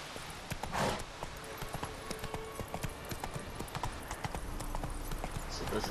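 Roach the horse in The Witcher 3 video game moves on with a steady run of hoof clip-clops, close and fairly loud, with a brief whinny near the start and no talk over it.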